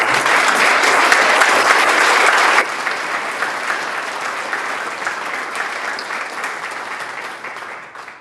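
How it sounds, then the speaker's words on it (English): An audience gives a sustained round of applause for emerging leaders at an awards ceremony, loud and dense at first, then easing to steadier, lighter clapping that fades out near the end. "So let's give a round of applause to all"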